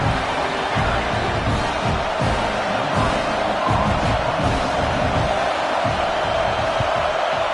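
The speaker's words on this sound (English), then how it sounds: "Decibels rising as the crowd gets behind this defense on third down." Crowd roaring in a college football video game, Ohio State against an FCS opponent, as fans rally behind the defense on third down; a dense, steady, loud roar with no clear peaks.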